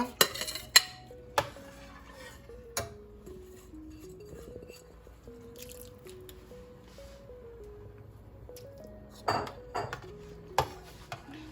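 Rice being stirred slowly in a pot of boiling water for chicken biryani, with a spoon knocking and clinking against the pot in scattered taps over a faint background hum.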